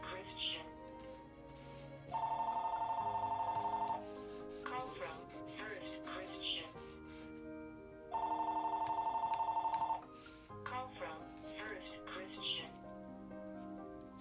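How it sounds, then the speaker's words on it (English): A telephone rings in two long electronic bursts separated by a pause, fairly loud against quieter tapping and handling sounds from paper crafting nearby. "Sorry about the phone call."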